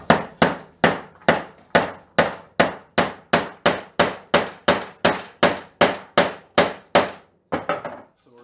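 Hammer blows drive fasteners for knob and tube wiring in an old house, about sixteen sharp, evenly paced strikes close by and loud, ending with a few quicker lighter knocks.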